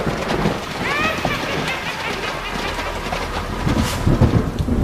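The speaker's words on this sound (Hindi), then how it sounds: "तूफानी बारिश।" Stormy night with heavy rain pouring down and rumbling thunder in an animated village story, a loud, continuous wash of rain with low rumbles throughout, a voice briefly heard under the downpour.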